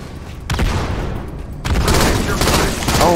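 Game combat in Halo 2 Anniversary on the Ascension map during capture-the-flag, with loud bursts of gunfire and booming blasts including a grenade explosion, dense and continuous across the moment.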